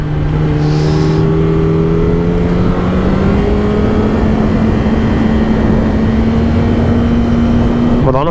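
A motorcycle rides a potholed road, its engine droning steadily and loudly with a slowly rising pitch under heavy wind and road rumble throughout.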